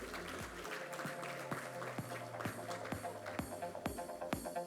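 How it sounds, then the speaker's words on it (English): Audience applause at an awards ceremony during a technology, R&D and IP summit, sustained and fairly dense clapping with sharp individual claps standing out, alongside a background music bed. "May we have a big round of applause for them?"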